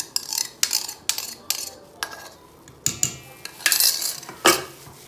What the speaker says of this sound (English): I prefer to mix by hand to reduce the risk of over mixing